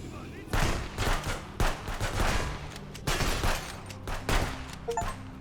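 A video game ambush fills the scene with loud, close gunfire: repeated bursts of rapid automatic shots and volleys that run almost continuously, with brief gaps between them.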